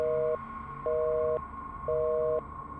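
A phone call going unanswered, its tone sounding in three evenly spaced, steady beeps with equal pauses between them, clear and close with no talk.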